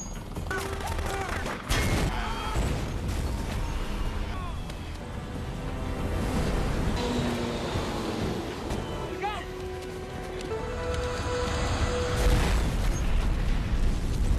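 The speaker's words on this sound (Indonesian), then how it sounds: "helikopter musuh meledak" A helicopter blows up in a chaotic burst of booms and crackling blasts, with rumbling and scattered pops continuing loudly for several seconds.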